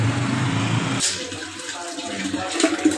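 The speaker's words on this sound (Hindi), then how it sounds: "ये इसके अंदर मैंने पानी डाल दिया" Water poured into a clay handi cooking pot for boiling soaked ingredients, a steady splashing pour that stops after a second, followed by faint trickles and drips.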